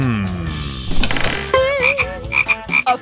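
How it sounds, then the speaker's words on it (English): Frog croaking loudly and close, a string of rapid, wavering croaks and chirps with varied pitch, heard alone and clearly in the foreground. "A frog?"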